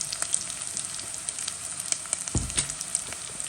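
A curry base with ground garlic and ginger sautés in a pan for Jaffna crab curry, giving a steady close sizzle with crackling pops and a brief stirring scrape partway through.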